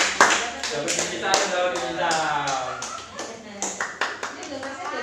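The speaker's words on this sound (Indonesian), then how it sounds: "tepuk tangan dulu, tepuk tangan" An audience at a village community service event in Wonolopo claps, loud scattered hand claps and taps in an uneven rhythm, with people talking over them.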